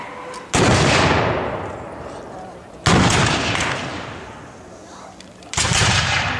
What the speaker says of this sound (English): Colonel Ruiz is beginning to answer fire, volley, fire